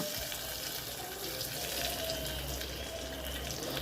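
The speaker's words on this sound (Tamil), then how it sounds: "இப்போ நம்ம சாம்பாருக்கு தேவையான அளவு தண்ணி சேர்த்துக்கிறோம்." Water pours steadily into tempered cooked dal for a quick tiffin sambar, a soft continuous splashing stream at low volume with no talking.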